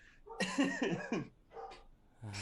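Dogs bark in a short series of rough, yelping calls, one cluster after another, coming from some distance and fairly faint.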